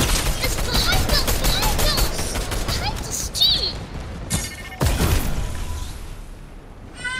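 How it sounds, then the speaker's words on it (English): Rapid bursts of gunfire from a video game shootout crackle close and loud, followed by a couple of heavier single shots, with voices talking excitedly over the action. "Shoot the tires, shoot the tires. Yeah, shoot, shoot, shoot him."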